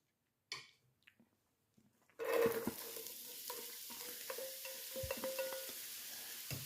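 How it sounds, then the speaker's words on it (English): Onions dropped into a frying pan of hot oil, with a few soft knocks before a sudden loud sizzle that keeps crackling steadily, close by, with some stirring clatter and no talk. "in the frying pan, I've got 3 tablespoons of hot oil, and we're going to add in the onions"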